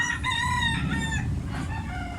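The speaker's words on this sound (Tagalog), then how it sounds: "Black leg ang manok ni tatay oh." A black-legged rooster on a farm crows loudly nearby, a drawn-out call followed by shorter clucks, with no talk.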